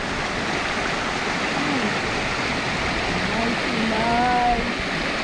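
Waterfall in Bourton-on-the-Water, a steady rushing roar of falling water close by, with voices talking and a voice over it.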